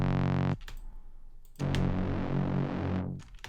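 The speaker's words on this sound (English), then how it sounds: "It makes it stereo, and it's add as well, yeah, this nice detune and granular effect that I like." A techno sawtooth synth tone with noise and a bit of sub, processed with a detuned, stereo granular effect, sounding as two loud sustained bursts with a short gap between them, buzzy and distorted, with no talk.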